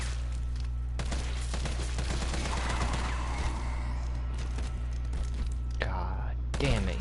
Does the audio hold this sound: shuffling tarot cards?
no